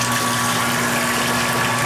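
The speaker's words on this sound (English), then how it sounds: "I'm gonna pump some over into my mash tun." An electric pump moves boiling water from a brew pot into a mash tun, giving a loud, steady whirring hum with a gushing liquid rush, continuous and close.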